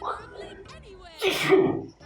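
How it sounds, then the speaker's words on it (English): A person sneezes once, loud and close, a sharp burst near the end that follows a moment of talk. "We're gonna have to cut that sneeze out"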